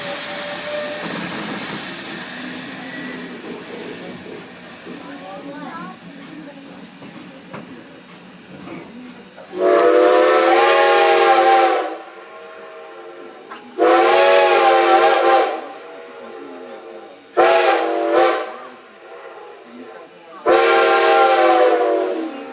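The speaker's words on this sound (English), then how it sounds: "when we stop here at Carpenter's Crossing and blow our whistle" A steam train whistle at Carpenter's Crossing on the Strasburg line sounds four times in long, loud blasts with quiet gaps between them, after a stretch of low background rumble.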